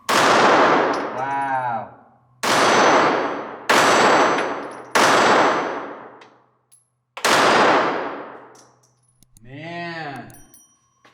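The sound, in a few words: Ruger Security 380 pistol gunshots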